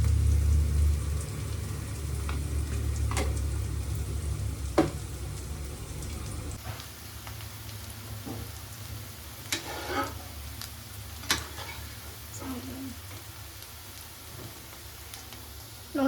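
Garlic paste hits a hot pan while boti fry is cooked, giving a loud, dense sizzle for several seconds before it settles into quieter crackling and spattering, with sharp clicks of stirring.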